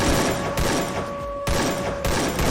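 Gunfire in the mobile battle game Free Fire crackles in dense, loud bursts, with three sharp volleys separated by short gaps and a steady tone humming underneath.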